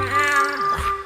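A single drawn-out cat meow sound effect from the video game Fortnite, with a bending pitch, set over a steady electronic hum.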